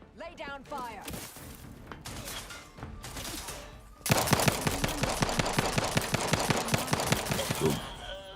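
Gunfire in Outer Worlds 2 on very hard mode, with a brief spoken line first, then a loud rapid automatic burst of evenly spaced shots hammering for several seconds.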